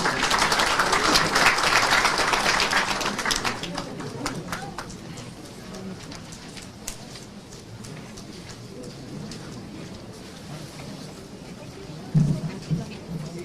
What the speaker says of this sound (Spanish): Solicito un fuerte aplauso para él